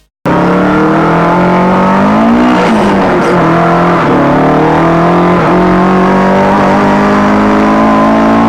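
A Toyota AE86 with a 4A-GE engine fed by Weber 48 carburetors revs loudly and close by, with rising and falling engine pitch sustained throughout and no talk over it.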